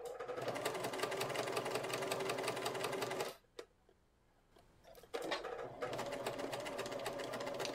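A sewing machine runs steadily while stitching a lined yoke seam with a 1 cm seam allowance on a western blouse, loud and close, pausing briefly midway for a quiet gap before the motor resumes its fast even hum.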